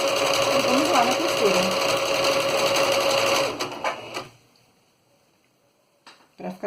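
A sewing machine runs steadily, stitching bias tape onto fabric for a cushion cover, then stops about halfway through, leaving quiet with a few small handling clicks and taps.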